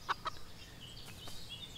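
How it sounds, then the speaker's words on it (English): A farm chicken in the game Everdream Valley gives two quick clucks near the start, then faint ambient game sounds follow with no talking. "Come here, chicken."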